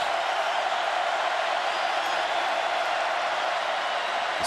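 A stadium crowd at a 2017 Auburn vs LSU college football game roars steadily in support of the LSU defense, a dense, continuous wash of cheering that stays loud without breaks.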